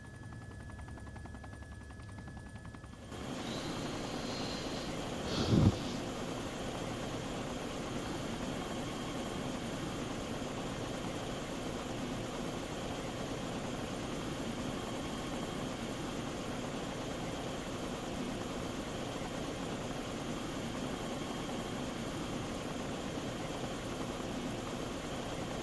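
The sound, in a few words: helicopter engine idling in video game Arma 2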